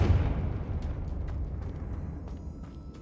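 A blasting spell detonates in a fantasy video game, a loud rumbling explosion that starts with a heavy burst and then rolls on as a long, dense roar of debris and crackle.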